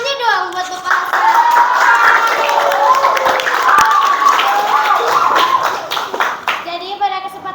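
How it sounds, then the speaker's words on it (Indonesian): A school class gathering claps for a guest at a mid-semester event, a burst of clapping mixed with children's voices and chatter throughout, loud and busy before fading slightly at the end. "Tepuk tangannya doang buat Bapak Hasan."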